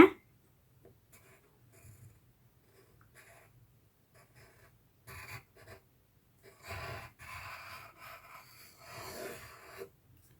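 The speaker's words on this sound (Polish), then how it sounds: "Teraz sobie rysuję Afrykę." Pencil drawing the outline of Africa on a hand-drawn world map, heard as soft, close scratching strokes in short bursts, growing busier and more continuous toward the end.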